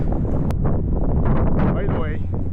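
Blustery wind in an Antarctic blizzard roars steadily against the microphone, a dense rumbling buffet with gusts rising and falling throughout, while a person talks underneath.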